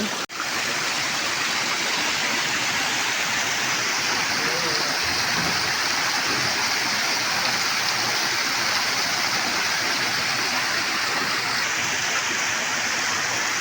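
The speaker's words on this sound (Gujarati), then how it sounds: "આ પાણી છે ને કદી ખૂટતું જ નથી જોઈ શકો છો આ બાજુ પણ પાણી આવે છે" Steady rushing spring water flows continuously near a temple, a broad even wash of sound close by, with no breaks from start to finish.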